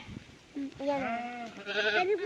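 Several wavering bleats of sheep sound nearby in a forest, one after another, clear and fairly loud.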